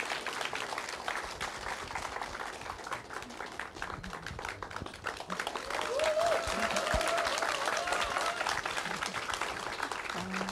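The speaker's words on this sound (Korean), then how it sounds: "큰 박수로 맞아주세요" An audience applauds to welcome Democratic United Party presidential primary candidate Kim Doo-kwan at a hope concert, with dense continuous clapping that swells louder midway, plus brief crowd voices.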